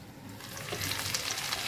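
Chicken kala vuna, a spiced Bengali chicken dish, sizzles and fries in a pan over medium heat while being stirred, the crackle swelling gradually from faint to moderately loud.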